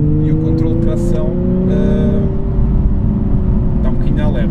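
A naturally aspirated Nissan 370Z Nismo engine hums loudly and steadily from inside the car on a damp road just after rain, its pitch slowly rising, with brief talk over it.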